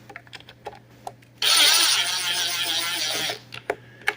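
A power screwdriver whirs continuously for about two seconds, driving T20 screws into a plastic Shark vacuum power head, up close, framed by light clicks and handling taps before and after.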